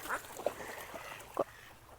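Domestic ducks at a village fish pond give a few faint, soft quacks at a distance, spaced irregularly against a quiet hiss of outdoor background.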